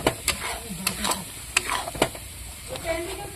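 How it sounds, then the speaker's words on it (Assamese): Masala spices are stirred and mixed in a hot cooking pan for a chicken dish, with a soft sizzle under a few sharp scraping and tapping strokes. "ধুনীয়াকৈ মছলাটো মিক্স কৰি নিছোঁ"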